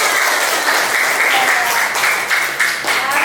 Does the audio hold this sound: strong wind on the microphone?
no